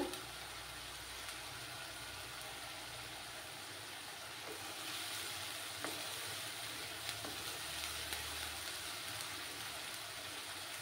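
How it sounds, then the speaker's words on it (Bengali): Onions sizzle steadily in hot oil in a pan for a Bengali fish curry, a constant close frying hiss with occasional small pops and faint stirring scrapes, with no talking. "পেঁয়াজের যতক্ষণ না কাঁচা গন্ধটা যাচ্ছে ততক্ষণ আমি ভেজে নেব।"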